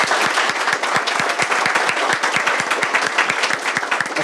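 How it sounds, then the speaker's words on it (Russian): An audience at a Bashkortostan KVN team meeting breaks into loud, steady applause, dense clapping with distinct individual hand strikes rising throughout and sustained without a break. "Ваши аплодисменты, друзья"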